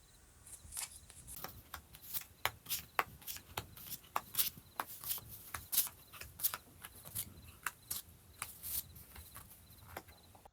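Tarot cards being shuffled by hand, a quick irregular run of soft riffling slaps and rubs close up, fairly quiet and with no talk.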